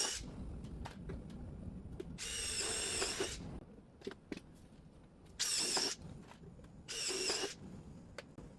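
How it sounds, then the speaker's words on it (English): A power drill bores a pilot hole while a flyover patio carport with fascia upstand brackets is installed, whirring in three separate bursts of a second or so each, with quieter handling noise in between. "I always find it good to start with a pilot hole."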